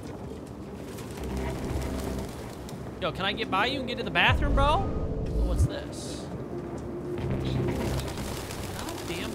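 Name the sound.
pigeons cooing in video game Detroit: Become Human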